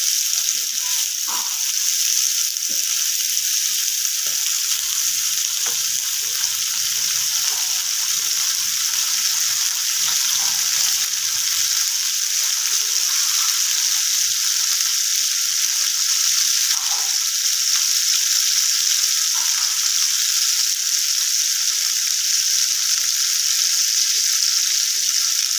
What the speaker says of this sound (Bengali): মাছটা ভাজার জন্য আমার আরও একটুখানি অল্প তেল লাগবে।